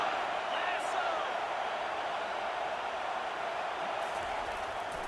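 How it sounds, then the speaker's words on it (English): Stadium crowd in NCAA 25 college football game, a steady loud roar of many voices holding evenly throughout, with a commentator talking over it. "This crowd trying to make life miserable for this offense."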